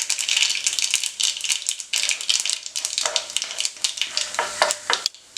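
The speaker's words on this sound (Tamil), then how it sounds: "கடுகு பொரிஞ்ச பின்னாடி கொஞ்சம் கடலைப்பருப்பு போட்டுக்கலாம்." Mustard seeds, chana dal and urad dal crackle and pop in hot oil, a busy rattling sizzle with rapid sharp spatters throughout, close and fairly loud, during tempering for a Tamil kale poriyal.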